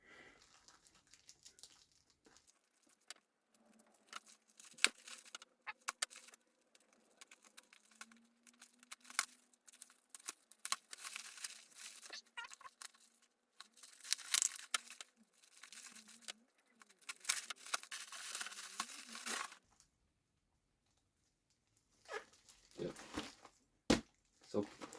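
A package for a speedcube unboxing is cut open with a nail clipper, giving a long run of close, uneven crinkling, tearing and rustling with short pauses between bursts. A voice speaks now and then.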